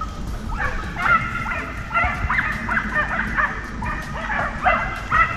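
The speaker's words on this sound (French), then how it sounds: "Les chiens mènent fort, les sangliers sont levés." Pack of hunting hounds in full cry during a wild boar driven hunt near a marsh, baying and yelping repeatedly at a moderate distance with overlapping voices and a steady outdoor rumble beneath.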